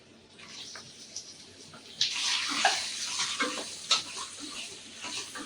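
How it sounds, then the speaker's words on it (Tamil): Medium-sized tomatoes sauté in a pan with ginger and garlic, a moderate sizzle with occasional louder stirring scrapes and splutters, close by. "தக்காளி கொஞ்சம் வதங்கட்டும் இது இப்படி வதங்கிட்டு இருக்கட்டும்"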